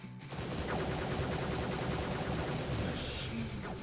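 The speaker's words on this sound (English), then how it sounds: "Machine cannon." Machine cannon gunfire in the Sturmfront video game, a dense continuous roar of rapid automatic shots that stays loud and even for several seconds.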